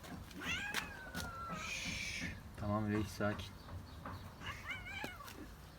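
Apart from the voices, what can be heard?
kitten meowing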